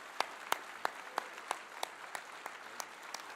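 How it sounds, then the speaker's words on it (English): Applause for award recipients and Hall of Liberty inductees at a Libertarian Party convention, a faint, steady patter of many hands with a few sharper claps standing out at regular intervals, heard from a distance. "A round of applause for all of the award recipients and Hall of Liberty inductees"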